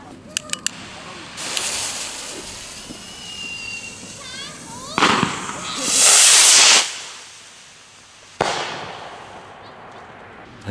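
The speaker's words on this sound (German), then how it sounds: "So, jetzt kommt die Swirl Rakete von Explode. Die XPE" An Explode XPE 2915 Swirl rocket firework launches outdoors on New Year's Eve with sharp ignition crackles and a loud whooshing, hissing roar that surges and fades, followed by a bang. A voice talks intermittently nearby.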